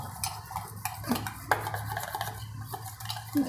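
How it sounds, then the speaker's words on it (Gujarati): Batter for wafer bhajiya being stirred in a bowl, with soft repeated scraping and knocking of a spoon against the sides in an uneven rhythm, close and fairly quiet. "એકદમ આમ મિક્સ કરી દેવાનું"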